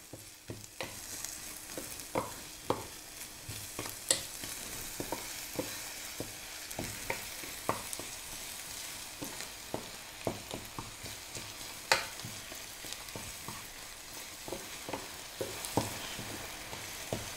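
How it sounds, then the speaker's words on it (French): Two spoonfuls of sugar caramelise in a pan with softened ingredients for a West African peanut chicken sauce, making a soft continuous sizzle under repeated light scrapes and taps of a stirring utensil, close by and fairly quiet, with no voices. "Deux cuillères à soupe de sucre suffisent pour qu'il caramélise"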